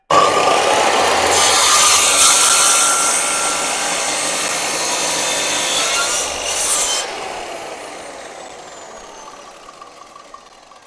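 A Dremel rotary tool grinds into wood, a loud steady high-pitched whine with rasping, running continuously and easing slightly toward the end, no voices.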